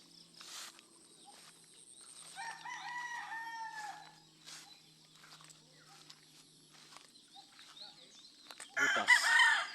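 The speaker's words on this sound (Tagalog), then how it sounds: "Daming manok, oh." On a farm, a rooster crows loudly with chickens clucking around it, then a burst of rustling and flapping near the end.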